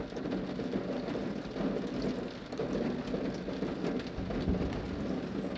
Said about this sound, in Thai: ฝนสาดแล้วพี่น้อย